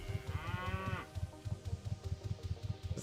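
Cows mooing in the Ultima Online video game: a drawn-out, harmonic moo over a steady, repeating low thumping rhythm of game ambience, fairly close and moderately loud.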